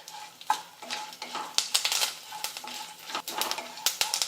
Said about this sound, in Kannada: ಸ್ವಲ್ಪ ಕರಿಬೇವು ಹಾಕೋತೀನಿ ರೀ ಇದನ್ನು ಕರಿಬೇವನು ಚಲೋತ್ತಾಗಿ ಹುರ್ಕೋಬೇಕು ರೀ